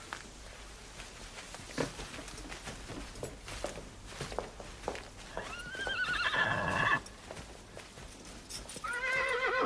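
A horse whinnies loudly in a medieval courtly setting, its shrill neighs rising clearly around the middle and again near the end, with hooves clip-clopping and scuffing on the ground throughout.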